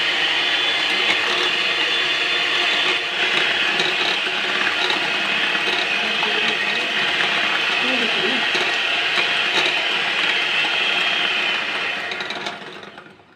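An electric beater whirs loudly and steadily at high speed, beating eggs and sugar for a coffee cake, its continuous buzz holding for over twelve seconds before winding down at the very end.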